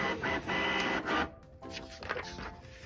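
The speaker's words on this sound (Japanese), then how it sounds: "ちゃんと印刷されてますね。" A compact home printer prints a page, its mechanical whirring and feeding sounding close and loud, then pausing before softer shuffling motion resumes.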